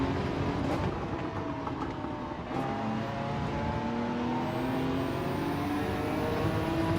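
Racing car engine in Gran Turismo 7 on a daily race at old-school Suzuka, a loud continuous droning engine note with shifting pitch as the car accelerates through gears, heard alone without talk.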